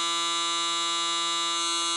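A Panasonic ER-SC60-S linear hair clipper runs steadily with a high, even electric buzz. The tone is constant and close, heard alone for its whole length.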